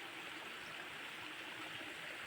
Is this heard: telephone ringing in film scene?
no